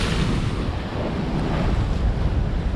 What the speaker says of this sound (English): Boy, you can see how rough the surf is.